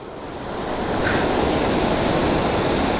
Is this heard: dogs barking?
no